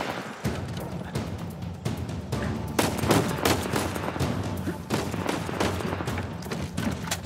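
Gunfire rattles nonstop in a firefight in the action game Uncharted 4: A Thief's End, with dense, rapid shots and bursts close by that keep going the whole time.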